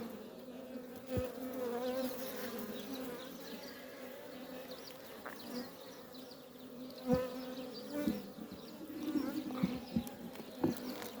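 A dense, steady hum of many honeybees buzzing close by at an open hive, with occasional brief knocks and rustles over the continuous drone.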